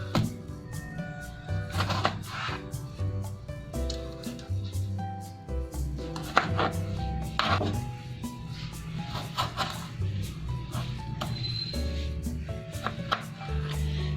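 A knife slices tomatoes into quarters on a board in a home kitchen, producing a run of irregular close, sharp chopping taps and knocks spread across the stretch.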